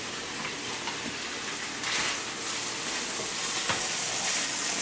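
Bacon renders its fat in a hot pan, a loud, dense sizzle and crackle with brief pops, continuous and close with no talk over it.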